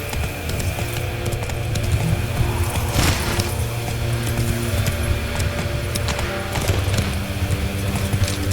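Horse hooves clip-clop in a steady trot while riding in The Witcher 3, a rhythmic patter beneath a low game ambience with occasional jingling tack.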